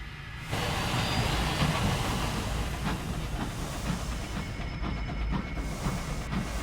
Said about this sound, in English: Such a long train.